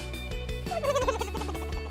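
A turkey gobble used as a sound effect in a radio advertisement, one quick warbling burst in the middle over a faint musical bed.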